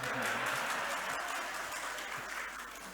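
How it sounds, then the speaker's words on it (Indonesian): Loud audience applause at a Halal bi Halal gathering of RSI Muhammadiyah Kendal, a broad rush of many hands clapping that slowly tapers over a few seconds, with faint talk and low tones underneath. "Ustadz kok kencang sekali tepuk tangannya"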